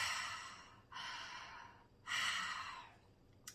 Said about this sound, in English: it's a simple inhale and exhale.